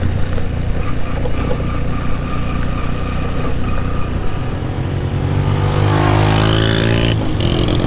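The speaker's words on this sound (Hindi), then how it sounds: "अभी तो 1-2 गाड़ियाँ जा रही हैं ना" Vehicles on the dusty mountain road over Shandur Pass, Pakistan, a loud close engine drone that swells as a car passes and revs near the end.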